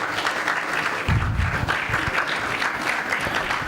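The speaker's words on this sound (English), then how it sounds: "round of applause, please." Audience applause at a sports awards and sports science conclave, a dense steady clapping from a crowd that swells slightly partway through and carries on to the end, close and without speech.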